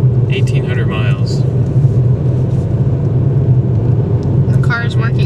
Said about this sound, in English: The car is working hard to get up this mountain.